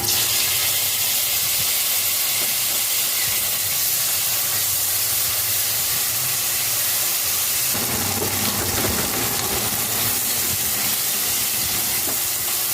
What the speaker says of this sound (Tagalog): Tapos lagay na natin ang chopped tomatoes.